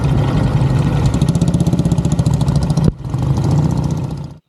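A 1941 Matchless G3L WD, a wartime dispatch rider's motorcycle, runs steadily close by with a loud, even thumping beat, cuts out briefly, picks up again, then drops away at the end.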